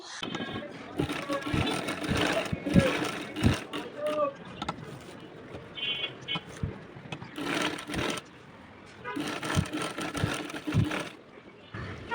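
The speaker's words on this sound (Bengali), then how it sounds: "এখন আমি এই তো ফিউজিংয়ের পাশ ঘেসে ঘেসে সাবধানে সেলাই করে নিচ্ছি" A sewing machine runs in several bursts as it stitches along a fused fabric neckline with piping, with pauses between runs and someone talking over much of it.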